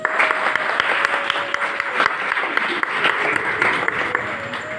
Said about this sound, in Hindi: सभी के लिए आप लोग एक बार ताली बजा लें।